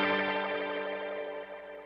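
A Boss RE-202 Space Echo pedal at full intensity, right at the edge of self-oscillation, gives a dense, ringing wash of repeating echoes that slowly fades, heard alone and up close.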